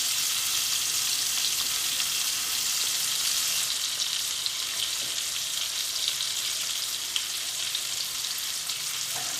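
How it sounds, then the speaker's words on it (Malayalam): Dried red chillies fry slowly in a pan beside sardines being pan-roasted, producing a steady, soft, close sizzle with faint crackles and no talking. "അത് നമുക്ക് ഇതിൻ്റെ കൂട്ടത്തിൽ ഇട്ടിട്ടൊന്ന് പതുക്കെ ഒന്ന് വറുത്തെടുക്കാം."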